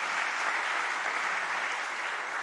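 A church congregation claps together during a Sunday morning worship service, producing a steady, dense patter of applause that holds evenly for the whole stretch with no voices over it.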